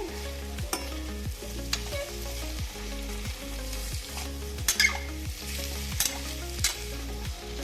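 Spiced potato bhaji being mixed in a pan with pomegranate seeds, sesame and fresh coriander, with a steady, regular scraping rhythm and a soft sizzle underneath.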